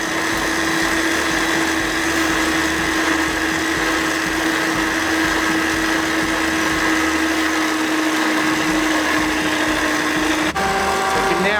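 An electric mixer whirs steadily as it beats eggs with brown and white sugar for a carrot cake batter, a loud constant motor drone that cuts off abruptly near the end.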